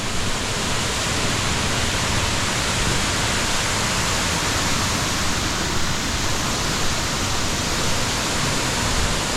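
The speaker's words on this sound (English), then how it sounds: "Check out this nice waterfall right over here." Waterfall seen on a walking tour in Knoxville, Tennessee, a loud, constant broadband roar of falling water filling the whole stretch without pause or voices.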